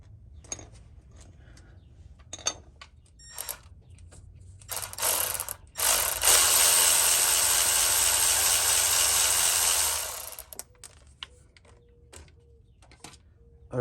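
A ratchet with a 5/16 socket working on Ram 1500 brakes: scattered close clicks, then a few seconds of loud, continuous whirring ratcheting, fading back to sparse clicks and light handling noises.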